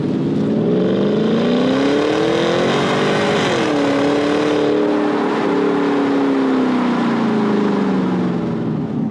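A Porsche Cayenne engine revs loudly and continuously toward its 6,500 RPM red line at about 60 mph. The pitch climbs, dips briefly at a shift, then climbs again, heard from inside the cabin with no voices.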